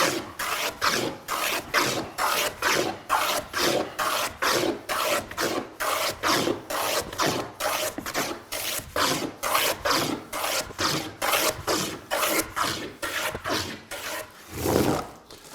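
A hand plane shears thick chips across the wood grain in steady rhythmic strokes, roughly two per second, each a loud close rasping swipe separated by brief gaps, continuing with no voice.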